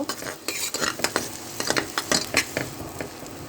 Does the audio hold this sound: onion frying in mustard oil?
yes